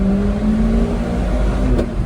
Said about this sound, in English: And this is me revving out.